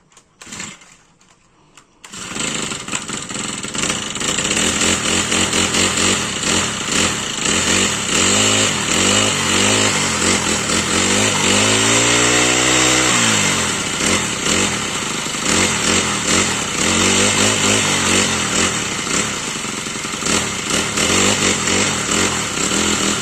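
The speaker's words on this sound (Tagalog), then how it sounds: "Painitin ko na tong grass cutter." Small gasoline grass cutter engine starts after a brief quiet moment, then runs loud and steady up close, its revs swelling and easing while warming up, with no talk over it.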